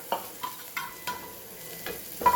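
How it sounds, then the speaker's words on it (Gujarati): Onion and green chillies with asafoetida are stirred in a pan over a low flame. The spoon scrapes in a few separate strokes under a soft, steady sizzle, close by and moderately quiet, with no voices. "ડુંગળી અને લીલા મરચાં અને સરસ આને મિક્સ કરી લઈએ."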